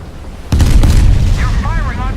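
Incoming naval shell fire in the warship game Steel Ocean 2 lands as a sudden loud boom that rumbles on, with someone talking over the tail.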